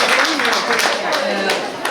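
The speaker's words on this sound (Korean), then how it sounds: "박수 한번 주세요" Audience clapping at a founding ceremony for a Korean janggu drumming association chapter, a brief dense patter of hands mixed with voices.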